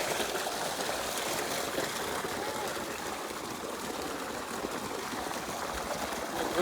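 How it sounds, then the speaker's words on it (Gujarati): Water pours steadily from an opened tap at a farm, a continuous close rushing hiss with no breaks, fairly quiet. "આઈ જો ચાલુ કરી દીધું પાણી"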